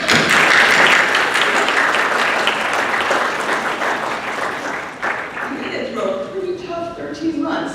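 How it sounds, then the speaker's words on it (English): A large audience at a teacher research presentation event breaks into loud, dense applause that gradually thins and tapers off, with a voice starting to speak near the end. "Can we give these folks a round of applause?"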